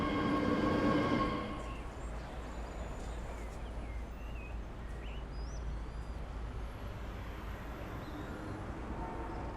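An ÖBB 4024 Talent electric multiple unit on the S-Bahn Vorarlberg in Train Sim World 4 pulls away, a louder burst at the start settling into a steady rolling rumble with faint squeals and tones above it.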